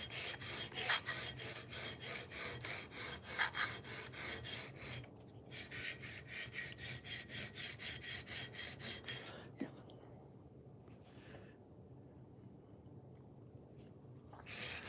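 Steady back-and-forth rasping of a knife blade drawn across a 120-grit diamond sharpening stone, rhythmic close strokes for about ten seconds, then a pause and a few lighter scrapes.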